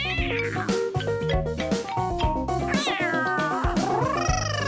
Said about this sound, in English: Oh, someone's meowing. There's a kitty!